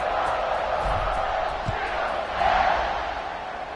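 A large stadium crowd in the video game Madden 26 roars continuously, swelling louder midway, a dense wash of distant cheering voices.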